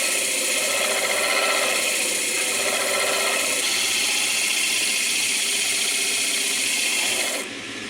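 A power tool grinds dross from freshly cut metal pieces in a garage, making a loud, continuous abrasive whine and rasp that holds steady for several seconds and then cuts off near the end.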